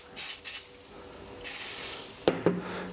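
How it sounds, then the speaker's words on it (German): Spray starch misted from a spray can onto a crocheted basket padded with fiberglass filling: two short hissing bursts, a longer sustained spray, then two quick sharp bursts, close and moderately loud with no talking. "Und jetzt nehme ich mir Sprühstärke, sprühe das Ganze ein."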